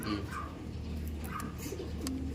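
Pet pigeons in a cage, soft low cooing repeated in a slow rhythm, fairly faint and close, with a few light rustles and chirps in between.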